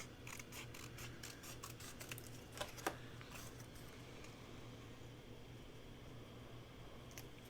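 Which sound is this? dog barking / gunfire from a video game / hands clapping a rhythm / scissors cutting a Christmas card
scissors cutting a Christmas card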